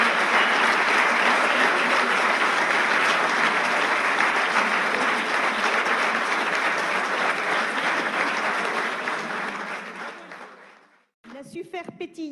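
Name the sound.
audience applauding at a convention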